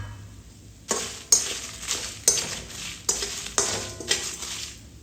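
Dry red chillies, cinnamon, cloves and cumin are stirred and fried in a pan, giving a steady sizzle broken by about six scraping, clattering strokes of the spoon against the pan, heard close with no talking.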